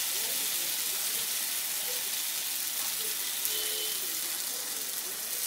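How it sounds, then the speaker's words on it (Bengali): Water is poured into a pan of kohlrabi and vegetables sautéed with spices for a prawn curry, producing a steady, loud hiss and sizzle that fills the whole moment with faint bubbling underneath. "মশলার সাথে সবজিগুলো কষানো হয়ে গেছে, এখন এর মধ্যে জল দিয়ে দেব।"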